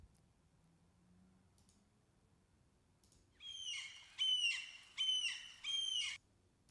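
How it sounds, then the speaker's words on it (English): Seagull calls added as a sound effect to a game trailer: four loud, close squawking cries in a steady rhythm follow a few seconds of near silence, with no talking. "Add some seagulls."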